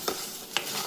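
Kashmiri chilli, coriander, cinnamon, pepper, shallots and garlic frying together in a pan for chicken curry, with two brief scraping stirs over a faint, steady sizzle.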